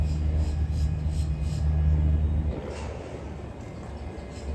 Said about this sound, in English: vamos aquí a una hot lap con un piloto profesional en el MC20, el super deportivo de Maserati